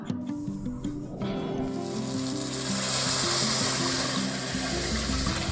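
Wheat rava roasts in ghee over a medium flame while being stirred, giving a steady sizzling hiss that swells and grows louder partway through, with background music running beneath.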